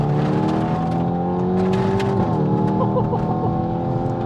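A tuned Stage 2, 400 bhp Hyundai i30 N with a DCT gearbox revs strongly, its pitch climbing, dipping briefly, then rising again in a loud, sustained roar heard up close.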